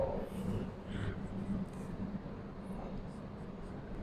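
Chalk or marker writing on a lecture board, scratchy strokes and taps in short bursts over a quiet room, with a voice speaking faintly underneath.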